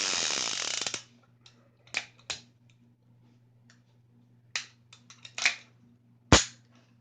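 A single action revolver being cocked and dry-fired after cleaning: sharp metallic clicks of the hammer and cylinder ratchet, several isolated clicks spaced apart over a quiet background hum, with one louder snap near the end.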